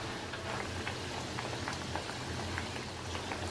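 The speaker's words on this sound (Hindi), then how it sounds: "पूरी को अंदर डाल देंगे। लो टू मीडियम फ्लेम पे इसे फ्राई करेंगे।" Pooris for khaja, a Gujarati sweet, fry in hot oil over a low to medium flame, giving a steady, dense crackle and bubbling sizzle with scattered sharper pops and no talking.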